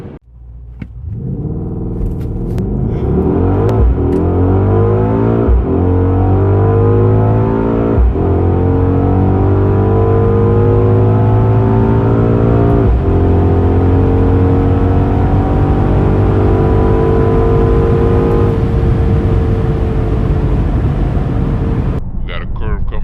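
A murdered-out Mercedes-AMG GLE 63 S V8 SUV launches hard on a night drive, its engine note climbing through several upshifts with brief dips between gears, loud from inside the cabin.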